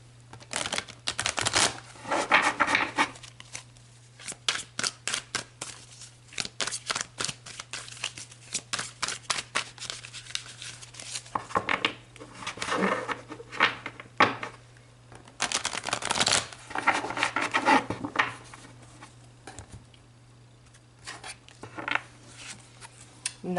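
Tarot cards being shuffled and pulled from the deck, bursts of riffling and flicking with soft taps and pauses between, close and crisp over a faint steady hum.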